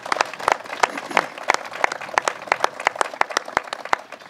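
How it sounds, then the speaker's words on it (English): A crowd at a governor's announcement on water quality applauds a scientist, Dr. Chris Gobler. The clapping is loud and close, with many distinct sharp claps standing out over a continuous applause bed throughout. "So let's give him a round of applause."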